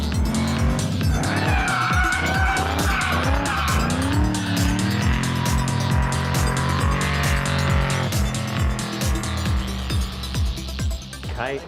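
Race car skidding and squealing its tires during hot laps on a race course, with a loud, continuous engine roar and repeated tire screeches close by throughout, no talking.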